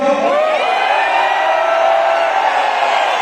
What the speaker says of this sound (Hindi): एक बार हूटिंग करके बताओ